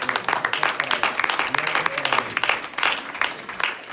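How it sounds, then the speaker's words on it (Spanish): Church congregation applauding in a steady, dense wash of clapping that swells and fades, with voices mixed in beneath it. "Denle el aplauso a Él"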